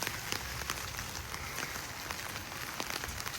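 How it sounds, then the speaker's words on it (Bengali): Heavy rain pours steadily on a hilly farm area in New York, a dense continuous hiss with scattered close drops striking surfaces, no voices. "খুব প্রচুর বৃষ্টি হচ্ছে এখানে এখন"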